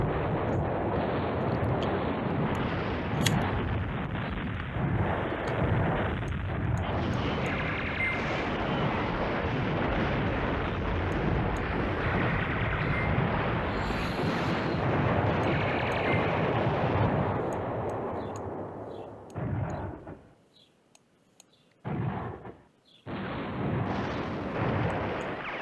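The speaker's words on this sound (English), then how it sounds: "I want the airstrike right on this parapet here." Heavy rumbling blasts from an airstrike in the wargame Command Ops 2, set over Nijmegen, roar continuously for about twenty seconds before breaking off into brief silences and a last distant rumble.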